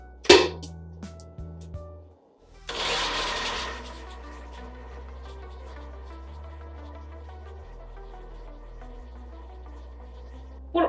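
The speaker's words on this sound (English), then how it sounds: "Add 1/4 cup of crushed ice in a blender" A blender crushes ice for a frozen piña colada: a short burst of grinding gives way to a steady, fairly quiet motor whir that runs for several seconds before stopping.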